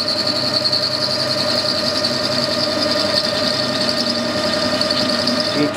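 A lathe bores welded aluminium with a high-speed steel boring bar, giving a steady whining machine hum with a high tonal squeal from the cut running throughout.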